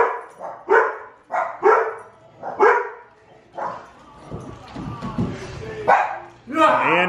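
Dogs bark in sharp, close bursts, several loud yaps in quick succession, then a pause and more barking near the end, in a home during Christmas preparations, with some speech mixed in.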